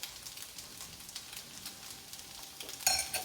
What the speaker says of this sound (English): I started sauteing my onion and got that going